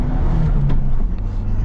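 A 2023 Ford Bronco Sasquatch with a manual gearbox and 2.3-liter turbo engine accelerates, giving a steady, fairly loud engine drone from the cabin with a brief whoosh partway through.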